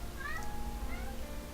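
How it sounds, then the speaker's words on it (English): A kitten gives a couple of brief, high, thin meows in close succession, heard faintly in a room over a low background hum. "There's a kitten meowing behind me."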